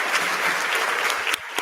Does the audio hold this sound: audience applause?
yes